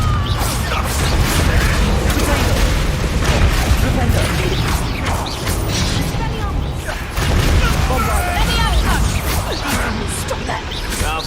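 Fiery Confringo spell blasts in a Hogwarts Legacy battle, booming and crackling under dense mechanical game effects and combat clatter, with a loud, continuous, busy mix throughout.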